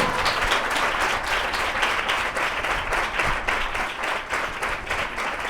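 A church congregation at a sermon applauds, steady and sustained clapping from many people that holds at an even level throughout.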